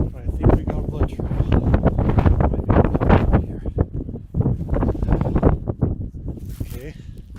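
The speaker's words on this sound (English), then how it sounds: "It's real windy" Strong wind blows outdoors while a coyote is tracked through brush. It makes a loud, continuous buffeting roar across the microphone, and someone talks over it most of the time.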